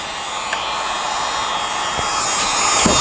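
A heat gun blows steadily on an aged overlay of an Atari 720° arcade control panel, a constant broadband whoosh that grows slightly louder toward the end, with a few faint clicks and no talking.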